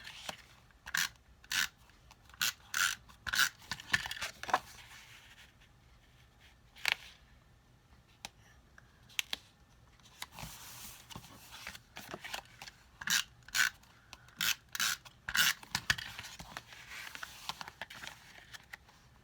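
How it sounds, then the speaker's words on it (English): Repeated sharp tearing and crinkling bursts of sticky tape being pulled off a roll and applied to a card, close by, in irregular clusters with quiet gaps between. "sorry that my tape is so noisy."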